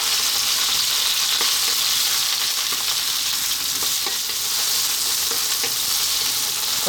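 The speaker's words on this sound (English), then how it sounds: "I'm going to drop in my eggplant first. I want to go just for like 3 minutes to get them started." Eggplant pieces fry in a pan for an Indian potato curry, making a continuous loud sizzle with faint crackles and soft stirring noises, close by and without voices.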